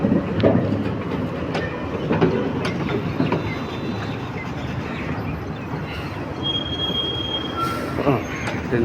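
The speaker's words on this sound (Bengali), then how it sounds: "এই যে ট্রেন চলতেছে" A train runs along the rails near Malda, with a steady, loud rumble and clatter of wagons and intermittent wheel squeal throughout.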